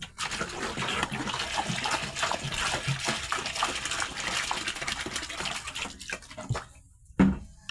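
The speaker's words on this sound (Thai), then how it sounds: "ล้างถ้วยล้างชามเนาะ" Bowls and dishes being washed with water, a steady splashing and running wash with clinks of crockery throughout, fairly close, ending in a brief pause and a final splash.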